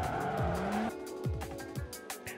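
A Lamborghini Sesto Elemento in Forza Horizon 5 revs with a rising engine note, then tires squeal in short sharp chirps over a loud, steady engine roar.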